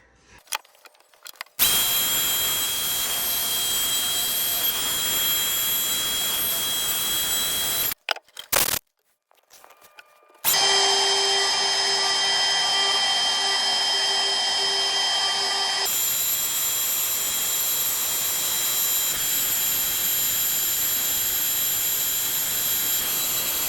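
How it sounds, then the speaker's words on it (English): Handheld wood router cutting engraved star outlines into a wooden keychain shelf board, running in long steady high-pitched whining stretches with a brief pause and restart midway, loud and close. "I'll router out the insides"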